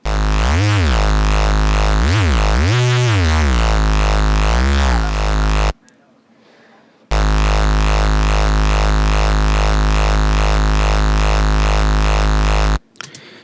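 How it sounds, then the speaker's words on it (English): Dry synthesized square-wave neuro bass with no effects, loud and buzzy, playing a few pitch-bending notes, then a short gap before a long sustained root note. "the bass sound that I started off with sounds like this."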